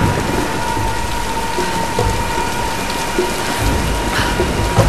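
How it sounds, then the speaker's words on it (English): Steady heavy rain with rolling thunder during a storm in the video game Tomb Raider Definitive Edition, a loud continuous downpour with a low rumble running underneath. "let's wait out the storm"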